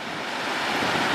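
Rushing water at Gurara Falls, a waterfall on a river in Niger State, gives a steady, dense broadband roar that swells slightly louder toward the end, with no voices over it.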